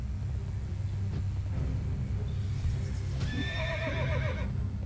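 A horse in World of Warcraft lets out a loud, wavering neigh near the end, over a steady low rumble with faint hoof clops before it.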